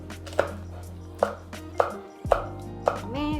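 Knife slicing vegetables on a cutting board at an angle into fairly thick pieces for a Korean jjageuli stew, five crisp chops at an even, unhurried pace, close and clear over a low steady hum.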